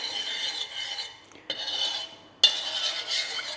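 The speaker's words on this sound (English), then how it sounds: "I'm giving it a stir pretty regularly" Steady scraping and rubbing of a utensil against a pot of coconut milk and sugar being stirred, continuous with a couple of sharper knocks, close up and moderately quiet with no talking.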